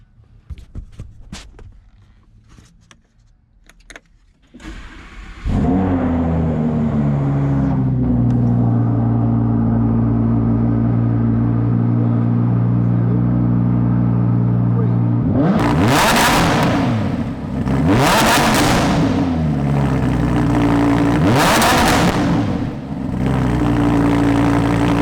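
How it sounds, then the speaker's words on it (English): A Lamborghini Huracan with a loud aftermarket exhaust fires up after a few faint clicks, settles into a deep, rumbling idle, then barks through three sharp, roaring revs near the end, loud and close with no talking. "Let's start this car and listen for this insane exhaust. This car have a aftermarket exhaust."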